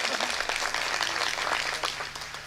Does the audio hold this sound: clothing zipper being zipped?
no